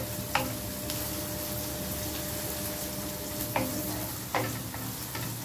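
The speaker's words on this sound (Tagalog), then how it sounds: "Siyempre, igisa natin yung sibuyas." Onions sauté in a pan as a steady, close sizzle that fills the whole stretch, with a few brief clinks of a utensil stirring, and no talking.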